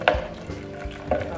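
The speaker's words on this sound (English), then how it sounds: "The next step is just put the prosecco or the champagne in and then stir in" Prosecco is stirred into watermelon granita, giving a couple of close scraping, slushy clinks of a utensil against the bowl in a brief kitchen moment without speech.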